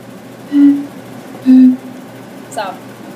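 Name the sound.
blowing across glass pop bottles tuned to different pitches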